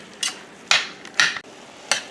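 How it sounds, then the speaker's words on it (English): Ground beef being stirred in a pan as it browns, with four separate scraping strokes of a utensil and a faint sizzle beneath them, close by and with no talking. "I'm just going to stir this and let it brown."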